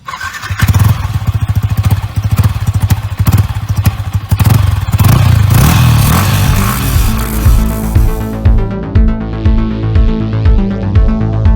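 A Yamaha R15 V3 motorcycle (2020) engine, loud and close, with rapid staccato revving blips that give way to a steadier, sustained roar and rhythmic pulsing idle.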